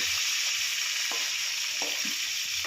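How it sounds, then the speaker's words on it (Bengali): Parshe fish fry in hot oil with a steady, dense sizzle that stays loud and even throughout, punctuated by a few soft low clinks of a utensil. "এবার এক করে আমি মাছগুলোকে ভেজে নেব"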